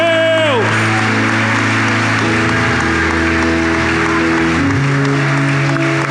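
A church congregation applauds during a Sunday worship service at Kerygma Londrina, steady clapping mixed under loud sustained keyboard chords and music.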